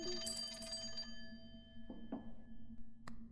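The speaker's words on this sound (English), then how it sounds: "Oh, the phone is ringing." A telephone rings inside the casino-themed video game Clover Pit: a bright, steady electronic ring for about the first second, then quieter clicks and a sharp tap over a constant low hum.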